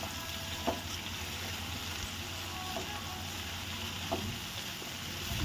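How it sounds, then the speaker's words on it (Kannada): Chopped ripe tomato fries in a pan for garlic rice, a soft steady sizzle at low volume with occasional faint clicks of stirring, close by and without talk. "ಹಣ್ಣಾಗಿದ್ದು ಟೊಮೆಟೊ ಹಾಕೋರಿ ಯಾಕಂದ್ರೆ ಜಲ್ದಿ ಗೋಲ್ಡನ್ ಕಲರ್ ಫ್ರೈ ಆಗತ್ತೆ"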